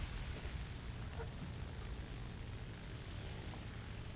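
FW-190 A-4 propeller fighter engine in the War Thunder video game, a faint, continuous droning rumble held steady throughout.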